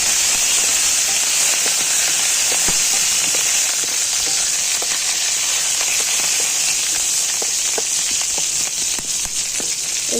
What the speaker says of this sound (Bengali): কারি পাতাটা একটু ভেজে নেব